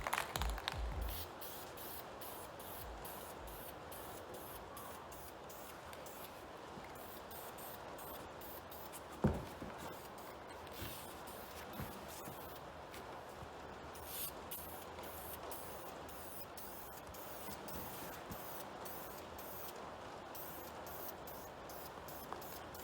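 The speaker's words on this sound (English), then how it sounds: "I'm going to give these a quick spray up" A steady broadband hiss of aerosol spray paint runs almost continuously, close up, with a few brief bumps and clicks along the way.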